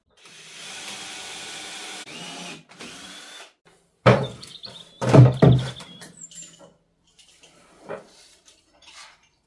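A power drill whirs steadily for a couple of seconds, driving screws through a wooden staircase joist into a newel post, then comes a few loud knocks and thuds, followed by quieter clatter.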